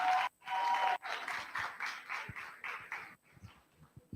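An audience at a youth technology festival in Africa applauds in a run of short, faint bursts of clapping separated by brief gaps, fading toward the end.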